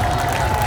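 A crowd gathered at a Ramadan community event in Cirebon applauds, a brief, continuous wash of clapping heard close and fairly loud with a steady hum beneath it.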